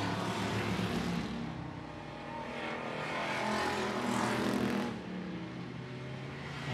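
Thunderstock race cars race side by side at I-76 Speedway, their engines a continuous loud roar that swells and fades as the pack passes.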